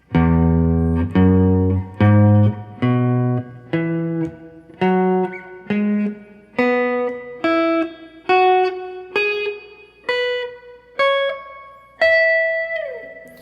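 Single guitar notes picked slowly one at a time, each ringing out before the next, climbing steadily in pitch, clear and close.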